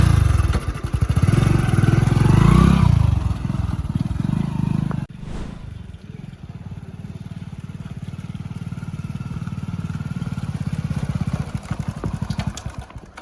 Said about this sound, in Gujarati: હું બાઇક લાવ્યો